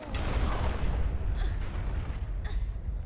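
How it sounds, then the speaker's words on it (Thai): Rapid gunfire in the survival horror game Resident Evil: Revelations 2, a dense, continuous barrage of loud low booming shots with no pauses, followed by a couple of sharper bursts near the end. "ใครยิงมา โอ้โหยิงรัวยิงรัวมาก โอ้โห หมดแม็กเลย"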